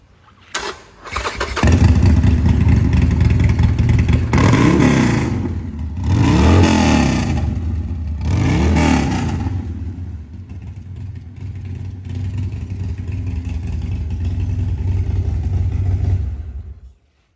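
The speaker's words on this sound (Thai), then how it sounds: "สำหรับ Harley Davidson Sporter Roadster นะคะก็เป็นเครื่องยนต์ 1202 cc" A 2020 Harley-Davidson Sportster Roadster with a 1202 cc Evolution engine starts up close by, then revs in three deep swells before settling into a loud, rumbling idle and cutting off.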